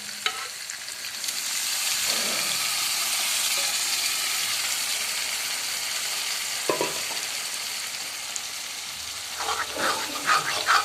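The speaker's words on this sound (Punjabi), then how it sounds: "ਹੁਣ ਆਪਾਂ ਇਸ ਵਿੱਚ ਦਾਲ ਐਡ ਕਰ ਦਿੰਨੀ ਹੈ" Steady loud sizzling as cooked whole green moong dal is added to a hot spiced tempering, with a few clinks and stirring sounds, and no talking.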